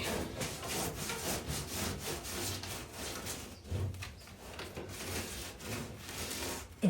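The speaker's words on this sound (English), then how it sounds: "this sealer is really dry. So it's cutting" Dry, long-aged windshield sealer being cut, giving a steady close-up sawing rasp with rapid rough strokes that continue throughout, no talking.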